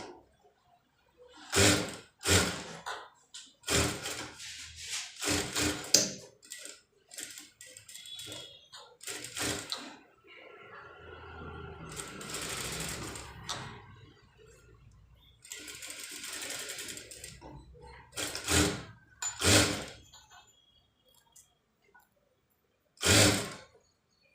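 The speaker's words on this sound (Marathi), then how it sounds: "आपण ही टीप मारून घेतली." A sewing machine stitches the back neck of a blouse in several loud, close bursts of rapid mechanical chatter, with short pauses between runs and one longer steady stretch in the middle.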